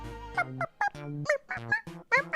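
A human voice mimics a raven's call, a fantasy delivery raven landing on a shoulder during a tabletop role-playing session, giving a series of short, croaky, honking squawks in quick irregular bursts, fairly quiet and close.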